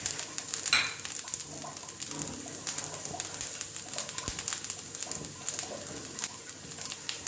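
Cashews and curry leaves sauté in a pan, giving a close, continuous sizzle with scattered crackles and stirring clatter, plus a faint bird-like coo in the background.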